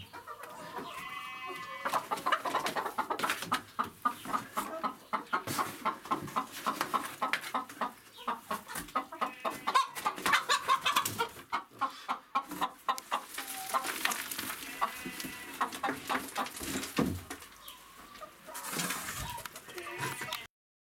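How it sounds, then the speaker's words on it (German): Chickens cluck and squawk at close range on a farm, a busy stream of overlapping calls with short gaps, fairly loud throughout. "So, jetzt haben wir 30 Hühner gekauft."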